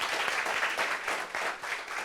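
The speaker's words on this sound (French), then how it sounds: "Applaudissements." Audience applause at a community meeting on the difficult period of adolescence, a steady wash of many hands clapping that stays fairly even and moderately loud for about two seconds, with no talking over it.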